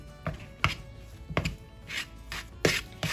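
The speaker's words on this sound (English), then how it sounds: "Let's mix all of these ingredients together." Potato cake batter with egg being mixed in a bowl, giving several separate scraping, tapping strokes at an uneven rhythm, close and moderately loud, with no talking.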